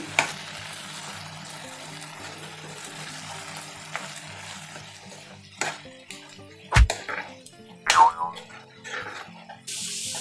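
Chicken with turmeric, ginger-garlic paste and chilli powder gets stirred in a pan, with soft sizzling broken by a few loud, clanking spoon strikes against the metal pan toward the end.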